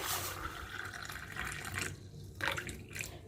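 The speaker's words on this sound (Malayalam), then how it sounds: "തിളച്ച വെള്ളം എടുത്ത് ഇതിൽ ഒഴിച്ചു കൊടുക്കുന്നുണ്ട്" Boiling water poured into a cup, a soft continuous trickle with a couple of brief splashy bursts, quiet and close, with no talking.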